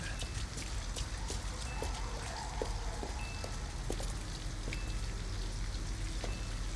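Rain in the video game Detroit Become Human, a steady patter of drops on surfaces with scattered sharper individual plinks, constant and fairly soft, with no one talking over it.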